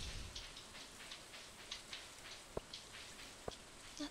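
Steady, dense rain falls in the video game Stardew Valley, a constant hissing patter with a few sharp drop ticks, fairly quiet and heard alone.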